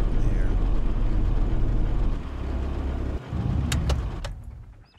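A truck engine in the video game Arma 2 (DayZ Overpoch mod) rumbles low and steady, fading toward the end, with a few quick clicks and ticks near the finish.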